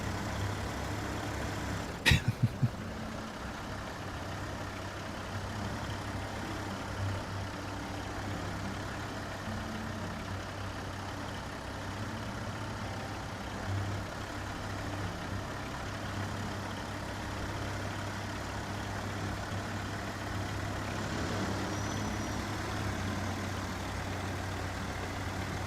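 Low, steady drone of a heavy truck engine in a driving game set in Quebec, constant and unbroken, with a brief cluster of sharp clicks near the start.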